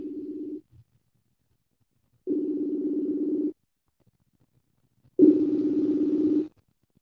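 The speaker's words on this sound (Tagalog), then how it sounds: "pakisagot ang telepono kung may monitor ka dyan" Telephone dial tone from a radio call-in program's studio line, sounding in three steady humming bursts separated by silences, the last one louder and brighter, with no voices over it.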